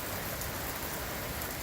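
Steady rain pours down during a hailstorm in a windy city, with water streaming off a gutter; a dense, continuous hiss of drops on surfaces fills the air, close and even throughout, with no voices.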